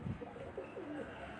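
A banded pure love flyer pigeon gives a few soft, low coos, faint and close, over quiet background hiss.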